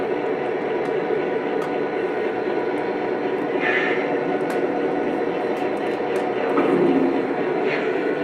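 A model train sound car playing recorded rail sounds on an indoor layout loop gives a steady mechanical rumble with faint clicks, moderately loud and continuous, with brief soft sounds of activity nearby.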